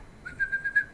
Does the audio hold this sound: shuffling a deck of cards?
no